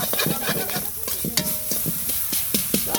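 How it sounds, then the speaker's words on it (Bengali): Pumpkin greens cooking with shrimp in a pan, with soft frying sizzle under repeated sharp scrapes and clinks of a spoon stirring against the metal, close and irregular. "কুমড়া শাক রান্না করি চিংড়ি দিয়ে"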